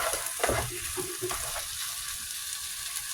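Bitter gourd sautéing with tomato in a pan, a steady frying sizzle with a few stirring scrapes near the start, close and alone with no talk.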